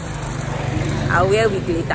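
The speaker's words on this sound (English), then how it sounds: "Sorry about the noise, I'm on the road." Roadside traffic drones continuously while walking along a road, a low engine rumble steady under someone talking close by.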